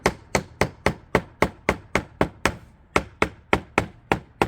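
A hammer drives fasteners in during car audio installation work on a Genesis GV80, about fifteen sharp, evenly spaced close blows in a steady rhythm.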